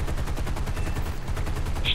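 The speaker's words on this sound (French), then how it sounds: "t'as mes tourelles qui tirent dans 4 directions différentes" Aircraft gun turrets in the War Thunder arcade game fire together in a rapid, continuous rattle of machine-gun bursts, loud and steady with no pauses and no voices.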